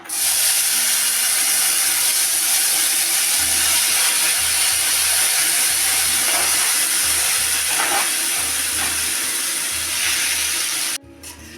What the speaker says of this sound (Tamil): இதே நெய்யில் நம்ம கட் பண்ணி வச்சுருக்கிற வாட்டர் மில்லனை இதில் போட்டு வதக்கிக்கணும்